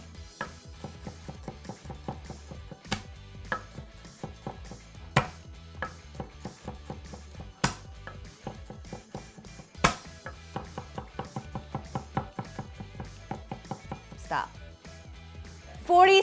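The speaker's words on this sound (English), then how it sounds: "Now I've chopped a lot of garlic in my life." A knife rapidly chops garlic on a cutting board, with quick, irregular bursts of sharp close knocks running almost nonstop and a few harder, louder strikes mixed in.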